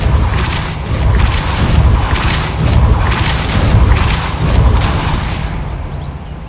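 Depulso spells being cast in the video game Hogwarts Legacy, a series of heavy, booming magical thumps that repeat about every second over a loud, rumbling game background.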